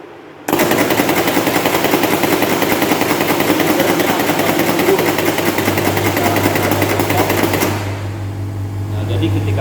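A pneumatic cylinder drives back and forth in rapid, loud, continuous hissing and clattering strokes for several seconds, then stops, leaving a lower steady hum with faint hissing.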